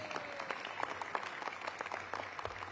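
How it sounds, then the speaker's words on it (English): An audience at a Washington, DC partnership announcement event applauds, a dense, fairly faint patter of many hands clapping continuously from some distance. "Give yourselves a round of applause."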